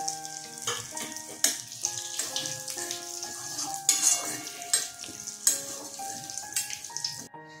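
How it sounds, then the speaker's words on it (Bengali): Cardamom, clove and cinnamon temper in hot oil with soft sizzling and scattered sharp pops and crackles, heard beneath steady background music. "এই তেলে আমি ফোড়ন দিয়ে দিচ্ছি এলাচ, লবঙ্গ আর দারচিনি।"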